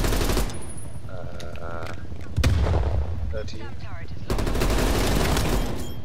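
Automatic XM4 rifle bursts in Call of Duty: Cold War rattle loudly at the start, a heavy thump breaks in midway, and another sustained rapid burst runs to the end.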